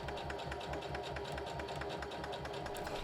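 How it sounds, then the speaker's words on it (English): A sewing machine runs steadily, stitching design fabric onto a piece of cotton batting, with a continuous close mechanical hum and rapid even needle clatter throughout. "I am sewing the design fabric onto a piece of cotton batting."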